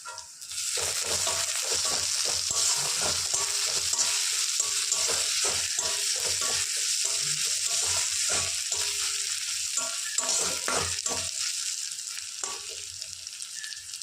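Onion, ginger-garlic paste and green chili frying in a pan for soybean curry, a loud continuous sizzle broken by rhythmic scraping stirs, close up and with no talking.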